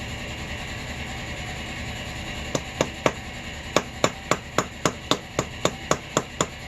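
Hammer blows on a handmade sneaker during shoemaking, a run of about a dozen sharp, evenly paced taps close by over a steady low background hum, with no talk.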